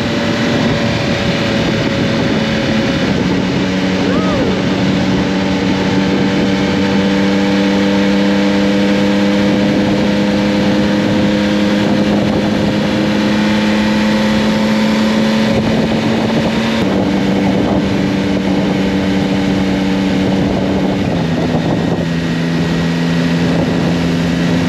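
A Yamaha XSR900 motorcycle ridden on a test ride while the quick shifter is tried, giving a loud, steady engine drone that holds each tone, then drops pitch abruptly at a few gear changes, continuous for the whole stretch.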